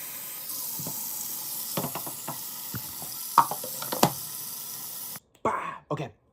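Water poured into an air humidifier: a continuous hissing, splashing stream with small clunks and knocks, stopping near the end before a few short bursts of plastic handling.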